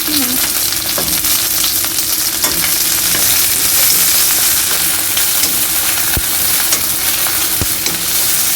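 Okra (bhindi) fries in a pan with a loud, dense, continuous sizzle, punctuated by occasional light taps of stirring.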